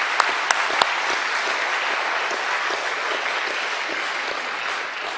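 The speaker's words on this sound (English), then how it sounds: "give them a round of applause." Sustained applause from a sizable audience, with a few sharp individual claps standing out at the start before settling into an even roar.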